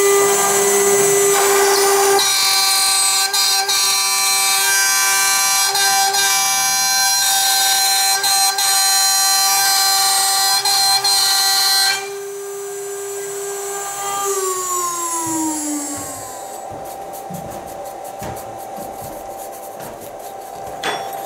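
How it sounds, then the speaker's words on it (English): A CNC router drives a 6mm straight flute carbide end mill through 15mm birch plywood in a single pass, a loud, steady, close high-pitched whine that drops abruptly partway through, then the spindle pitch slides down as the cut ends. "We're going to use a 6mm straight flute carbide end mill, and we're going to do a single pass straight through the material."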